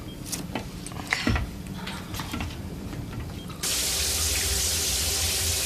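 Shower water bursts on partway through and runs as a steady, loud hiss, after a stretch of quieter mechanical clicking and rattling.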